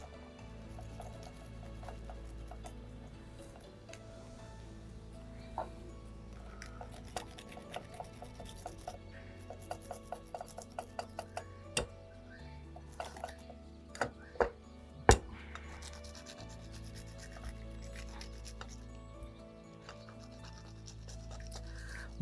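Pepper is grated in a home kitchen while preparing a chicken appetizer and coleslaw. Quiet, uneven rasping continues throughout, scattered with small sharp clicks and taps close by.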